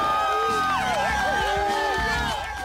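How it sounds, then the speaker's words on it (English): A Joshua Tree crowd cheers runners in a desert ultramarathon, whooping and shouting near and loud, with rising and falling calls over a background of voices. "Then both head off with the enthusiastic support of the Joshua Tree crowd."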